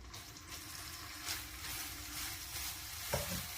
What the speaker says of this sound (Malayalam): നന്നായിട്ട് ഇളക്കി യോജിപ്പിക്കുക